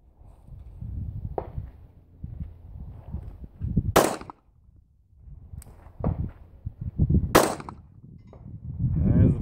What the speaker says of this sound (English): what I'm shooting at is a plate rack at about 120 yards with, I think they're 8-inch plates on it.